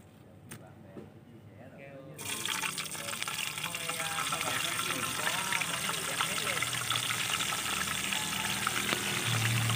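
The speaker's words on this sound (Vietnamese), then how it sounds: "Và bắt chảo dầu thật là nóng, mình sẽ chiên lên." Cleaned mud crabs dropped into a pan of very hot oil, bursting into a loud, continuous sizzle and crackle after a brief quiet start, frying steadily close by.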